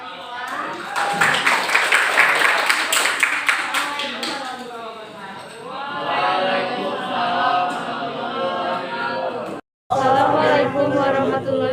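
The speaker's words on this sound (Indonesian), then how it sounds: "Tepuk tangan kepada semua." A classroom audience claps for a few seconds, loud and dense, while voices talk over it. The clapping then fades and speech continues, with a brief break in the sound near the end.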